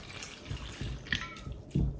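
Water is poured over jackfruit pieces in a cooking pot, a short, soft splashing and trickling that is faint and close by, with no talking.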